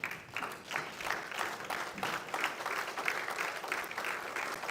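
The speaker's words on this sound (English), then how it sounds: "Continue to applaud him" A standing audience at a fellowship induction ceremony keeps applauding, many hands clapping in a busy, slightly uneven rhythm at moderate, distant-sounding level for several seconds with no speech.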